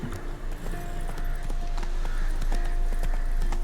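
Hooves of Geralt's horse Roach in The Witcher 3 clip-clop steadily under background game ambience, with no clear neigh standing out.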